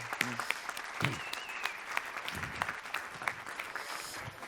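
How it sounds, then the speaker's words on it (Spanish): Audience applause at a Spanish-language panel debate on knowledge-based entrepreneurship, steady clapping from a seated crowd lasting several seconds, moderately close and even, with a few louder individual claps and faint voices mixed in. "que se trata de Eugenio Marín, para quien pido un aplauso, por favor."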